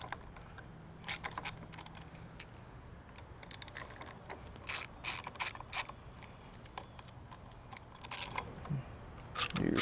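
Small ratcheting clicks and metallic creaks from loosening the grip bolts on a 2019 Road Glide Special motorcycle handlebar, quiet and close, in short irregular bursts.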